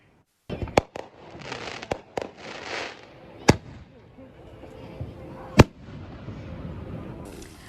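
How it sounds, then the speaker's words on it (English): Fireworks go off in a string of sharp, echoing bangs spaced a second or two apart, with crackling and fizzing in between, heard from some distance. "Although fireworks can be entertaining, as we just saw"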